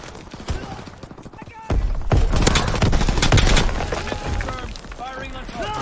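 Gunfire in the video game Call of Duty comes as rapid bursts of shots and fusillades, dense and loud, with a voice speaking over parts of it.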